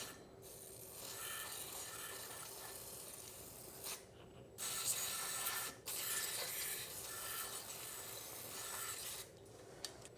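Compressed air sprays to blow dry parts of a Yard Machines 21 inch push mower. Faint, airy hissing bursts come in a few separate blasts over a quiet workshop background.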